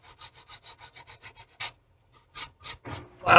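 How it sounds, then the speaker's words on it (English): Steady rhythmic rasping strokes of a sanding board on a 1/72 scale plastic model aircraft, about a dozen quick back-and-forth rubs, then a pause and a few slower scrapes, close and clear. "Always use a sanding board, file"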